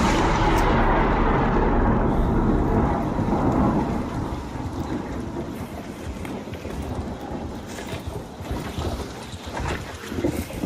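Thunderstorm in the ARC Raiders video game: a loud rolling rumble of thunder opens and slowly fades into a steady wash of rain and wind noise, with another swell of rumbling near the end.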